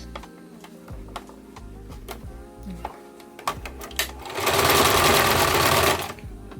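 A sewing machine stitches scrap fabric for a duffel bag, close and mechanical, starting as a ticking run of stitches with brief pauses, then breaking into a fast, louder burst of continuous stitching before easing off.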